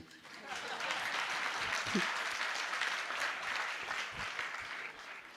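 Applause from a seated audience during a Jain religious discourse, a soft, sustained patter of many hands heard from some distance, with a few brief voices breaking through.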